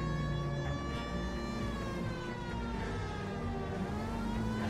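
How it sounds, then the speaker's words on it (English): A police car siren wails steadily and loudly in the 1940s Los Angeles crime game L.A. Noire, a continuous rising-and-falling tone over the rumble of a car engine, with no voices over it. "Hit the siren."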